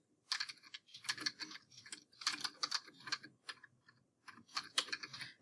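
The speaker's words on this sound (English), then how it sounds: "we can type in our search terms here" Keys clatter on a computer keyboard as search terms are entered into a newspaper database, several quick bursts of close, crisp clicks separated by brief pauses.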